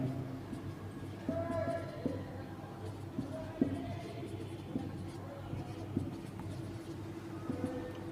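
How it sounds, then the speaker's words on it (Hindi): A pen writing on paper, scratchy strokes and taps in short bursts, close and fairly quiet over low room hum, no talking. "अलग कलर की पेन से लिखता हूँ"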